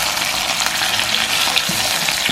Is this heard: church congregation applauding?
no